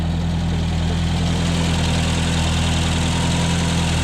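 Original, stock Peugeot 309 GTI engine idling steadily up close, a continuous low rumble with constant vibration and no change in revs.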